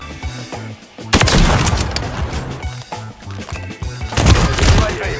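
Gunfire in a Call of Duty Search and Destroy match: loud, dense bursts of rapid shots erupt at about one second and keep going, then a second heavy volley comes near the end.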